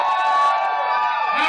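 A crowd at a drag show cheers and whoops in one sustained, loud burst of mixed voices, the noise running nearly unbroken before tailing off slightly.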